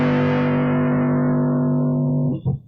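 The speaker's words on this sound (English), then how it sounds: "So it's a distortion effect on it" An instrument pickup feeds a distortion effect, producing a loud, sustained buzzing tone with steady harmonics that holds for over two seconds, then cuts off with a brief crunchy tail.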